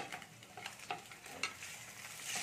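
A spatula stirs a snack mixture frying with onions in a pan, producing faint, soft sizzling with repeated scraping and stirring strokes.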